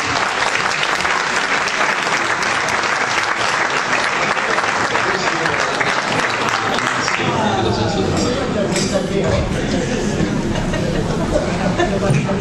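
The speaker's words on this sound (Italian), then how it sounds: "Un grande applauso" Loud, sustained audience applause fills a concert hall at the start of an Italian evening of music, with dense clapping continuing throughout and crowd noise and some voices mixed in toward the end.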